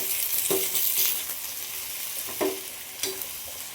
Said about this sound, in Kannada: ಇವಾಗ ಎಣ್ಣೆಯಲ್ಲಿ ಚೆನ್ನಾಗಿ ಫ್ರೈ ಮಾಡಬೇಕಿತ್ತು.